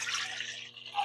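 Water poured into a bowl of batter for plain puto, a steady liquid rush with broad hiss that continues through the moment, close and alone with no talk.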